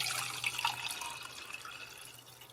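Filtered water poured from a container, a steady splashing trickle with drip-like detail, fairly quiet and alone without talk.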